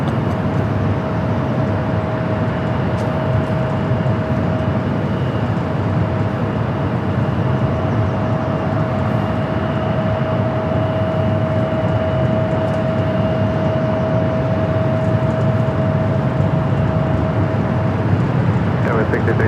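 Air France airliner taking off at LAX, a loud, continuous broadband jet roar with a steady whine held throughout and no break.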